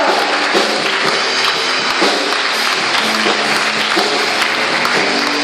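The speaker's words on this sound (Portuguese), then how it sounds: "Vamos aplaudir esse Deus bem forte." A church congregation claps loudly and steadily during a worship service, a thick wash of many hands with a few sharper individual claps and faint tonal music beneath, continuing without break.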